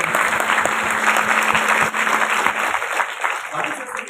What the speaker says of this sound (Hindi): मैं चाहूंगा एक जोरदार ताली